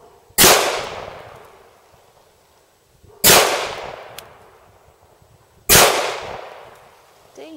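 Three sharp, loud gunshots from a Kimber 1911 pistol at outdoor target practice, spaced about three seconds apart, each crack followed by a long fading echo.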